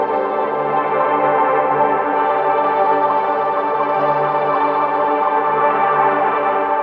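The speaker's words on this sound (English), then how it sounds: "The third effect uses a similar granular patch called an evening stroll" A granular evening stroll patch on Tapes.01 produces a dense, warm sustained tone with a steady, shimmering texture, loud and unbroken throughout, no voices.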